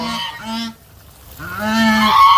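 A domestic goose honks loudly and close by in a garden, two short calls then a longer drawn-out honk after a brief pause.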